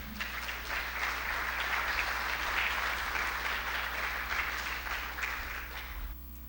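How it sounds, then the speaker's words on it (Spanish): An audience in a lecture hall applauds a scientist introduced before a talk on nanomagnetism, sustained even clapping from many people, then cutting off abruptly near the end over a low steady hum. "Un aplauso para él"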